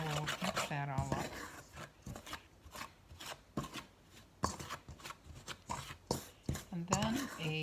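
Rasping, rubbing stirs as apple crisp ingredients are mixed with spices like cloves, a steady run of scraping strokes in a bowl, close and fairly quiet, with a voice talking over it at times.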